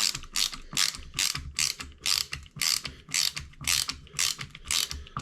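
Screwball ratcheting screwdriver driving a screw, giving a close, crisp run of about ten evenly spaced ratchet clicks in quick, regular rhythm.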